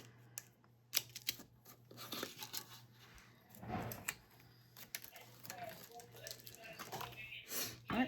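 A few quiet snips and crisp rustles as paper is cut, scattered across the clip with soft room noise and a low hum underneath.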